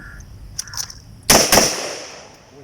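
Two quick, sharp gunshots from an M4 rifle fitted with a red dot sight, fired back to back at a 10-meter range. The shots are loud and close, with short ringing tails and no talk over them.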